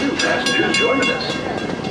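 A Walt Disney World Railroad train waits at Frontierland Station, giving off a steady, fairly loud hiss and rumble with faint tonal hums along the platform. Crowd murmur sits underneath.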